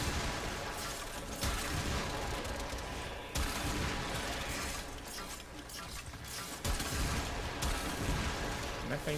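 Rapid, sustained gunfire from the Kuva Zarr in the Warframe video game during an Elite Sanctuary solo run, dense bursts of shots and explosive blasts layered continuously throughout.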